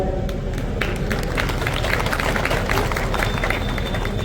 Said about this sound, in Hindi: मैंने देखा पुरुष तो ताली भी बजा रहे